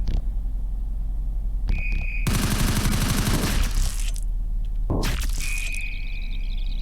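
Gunfire in a scary SCP video game: a dense burst of loud rapid shots, then a shorter second volley, over a constant low game rumble and brief high electronic tones.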